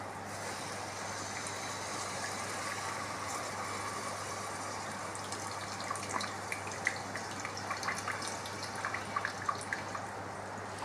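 Tamarind juice is poured into a simmering potato and egg curry. A low, steady background hum carries faint trickling, with a few soft splashes and drips in the second half.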